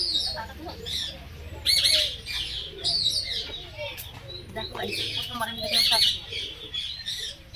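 Pigeons and cockatoos at a zoo, with repeated bright chirps and squawks near and far, cooing underneath, and people talking throughout.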